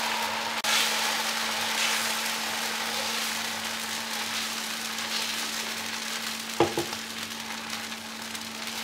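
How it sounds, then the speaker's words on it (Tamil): Mixed-pulse adai batter on a hot dosa griddle sizzles with a steady, even hiss over a low hum, broken by a couple of brief clicks of a utensil. "இப்போ அடை மாவை நல்லா கலக்கிட்டு தோசைக்கல்ல ஊற்றி எடுத்துடலாம்."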